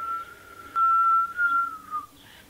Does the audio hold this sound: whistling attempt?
yes